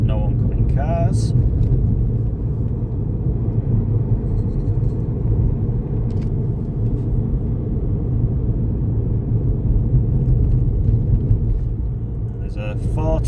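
Inside a UK car on country roads at around 30 mph, a steady low engine and road rumble drones throughout, fairly loud and constant, with brief clicks and someone talking over it now and then.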